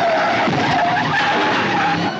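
Car tires skid loudly in one sustained, close-up squeal lasting about two seconds, heard on its own, as in a 1970s action film car chase.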